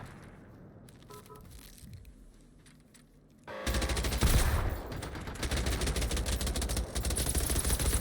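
Automated turrets in the video game Generation Zero open up, rapid gunfire bursts erupting loudly after a quieter stretch and continuing as sustained, dense shooting.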